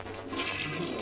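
A toilet flushes in the Ghostbusters video game, a steady rushing gush of water filling the whole short moment at moderate level.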